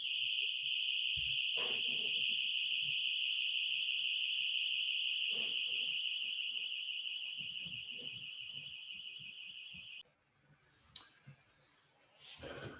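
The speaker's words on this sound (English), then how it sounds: "my house alarm went off, so I had to pause" A household alarm blares as a steady, loud high-pitched tone for about ten seconds, then cuts out, leaving faint clicks and short chirps.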